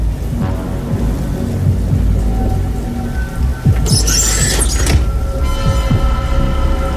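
Steady heavy rain hisses throughout, with a low rumble underneath and a brief brighter splash of sound in the middle.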